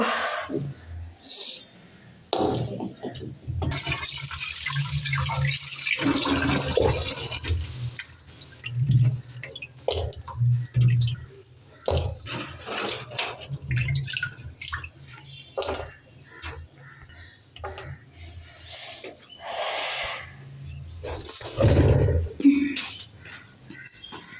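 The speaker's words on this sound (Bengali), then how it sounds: "সব ধুয়ে টুয়ে নিব।" Small fish and other ingredients are washed under running water for a Bengali fish dish, with splashing, trickling and dripping interrupted by handling and clatters, and occasional sniffs nearby.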